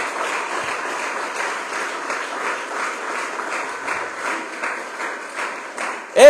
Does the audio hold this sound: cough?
no